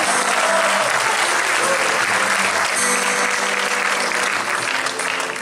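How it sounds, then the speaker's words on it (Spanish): Loud, sustained applause from a concert audience greeting a keyboard player at a tribute show, dense clapping filling the whole stretch with a faint tonal hum beneath. "Un aplauso para él."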